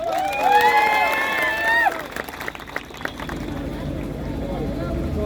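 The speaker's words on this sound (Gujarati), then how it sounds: "તમામ લોકો માટે એકવાર આપણે જોરદાર જોરથી તાળીઓ પણ લઈએ" A crowd at an outdoor municipal election rally cheers and shouts loudly for a couple of seconds, then the noise drops to a lower, scattered murmur and clapping.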